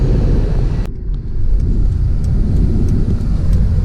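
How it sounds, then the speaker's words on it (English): A gray Volvo car being driven, heard from inside as a loud, steady low engine and road rumble, with a brief dip around one second before the drone resumes. "the car is running great"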